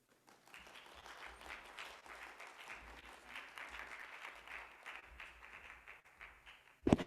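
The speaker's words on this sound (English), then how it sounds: "Keep the applause going for yourselves for showing up." Audience applause at a community event welcoming a speaker to the stage, a steady crowd clapping sustained for several seconds at moderate level before a sharp knock near the end.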